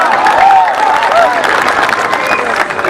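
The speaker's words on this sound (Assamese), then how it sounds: "হাত চাপৰিটা দিবনে" An audience at a music night breaks into loud, sustained clapping and crowd noise that holds steady for a few seconds, with a singing voice faintly audible above it.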